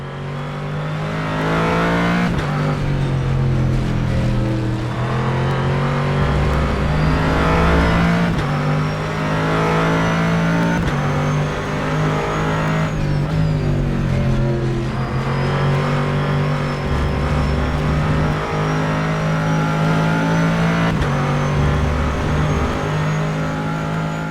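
GT race cars, including a Bentley and a McLaren 650S, at Spa in rFactor 2, with loud engines revving and shifting through gears. Pitches rise and fall as the cars accelerate and brake in a close pack, with no talking.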